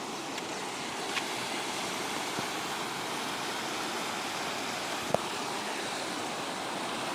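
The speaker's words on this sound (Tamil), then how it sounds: "உங்களுக்கு தண்ணி சத்தெல்லாம் கேட்குதா பாருங்க" Water rushing through a partly opened sluice gate at the Amaravathi check dam near Karur, a steady broad roar with no let-up, heard alone with no voices.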